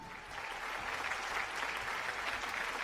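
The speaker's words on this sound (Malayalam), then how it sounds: "നല്ലൊരു കയ്യടി" A television studio audience applauds, a dense, steady wash of clapping that swells slightly after the start and holds evenly to the end.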